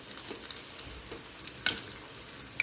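Idli batter bondas frying in oil on a medium flame: a steady, soft, fairly quiet sizzle and hiss running throughout, with a couple of faint clicks, no voices.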